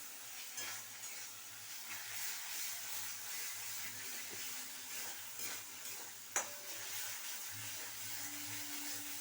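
Fish-head curry with ginger, cumin, chilli and tomato sizzles quietly in a pan while it is stirred. A soft, continuous hiss runs under occasional scraping stirs, with one sharp clink partway through.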